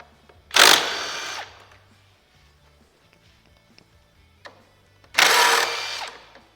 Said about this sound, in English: now we're going to take out the 4 10mm spoiler screws that Sonia talked about.